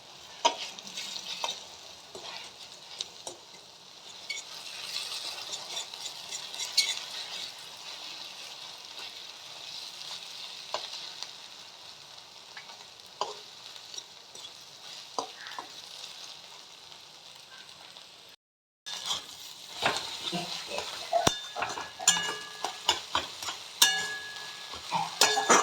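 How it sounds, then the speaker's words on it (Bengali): Egg fries in a pan for Maggi noodles, a soft, steady sizzle with scattered scraping stir strokes, briefly cutting out before continuing louder. "এবার ডিমটাকে একটু নাড়িয়ে দেবো"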